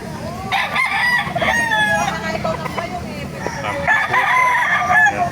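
Roosters crow repeatedly at a Baliuag market, loud and close, over clucking fowl and a murmur of crowd chatter.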